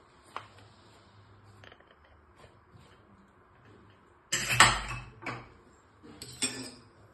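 A cooled pressure cooker is opened among pots and utensils. Sparse quiet metal clinks lead into a louder burst of clattering lid and metal, followed by a few more clanks close by. No voices.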